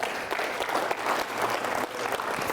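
An audience at a business talk gives a short, lively round of applause, with dense, loud clapping that swells and dips across a few seconds.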